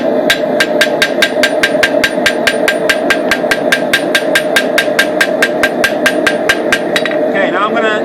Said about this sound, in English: So I'm forging out the edge again.